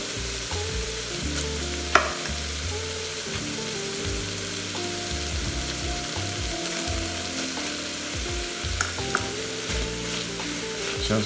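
Shrimp fried rice is stirred in a Ninja Foodi, a steady sizzle running throughout beneath soft, irregular scraping of the utensil through the rice, with one sharper knock near the start and no talking.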